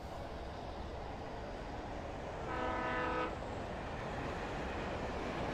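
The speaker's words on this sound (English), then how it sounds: "there's that train again" A train in the Alan Wake video game sounds a long horn blast in the distance over a steady low rumble of rolling cars, moderately faint and heard alone without talk.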